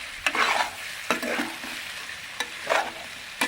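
Raw banana and fresh coconut fry in a pan and are stirred in several quick scraping strokes, close and fairly loud, over a light sizzle, with no voice.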